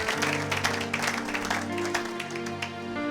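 A church congregation applauds, a dense, continuous patter of clapping hands that runs steadily throughout under sustained organ or keyboard tones.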